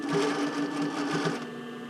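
A sewing machine stitches around a bra cup overlay, a steady close whir running without pause for the whole stretch, with no voices over it.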